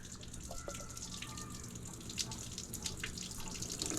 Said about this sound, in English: Now we're gonna turn our water on, and it should come out and flow out of some of the top ones.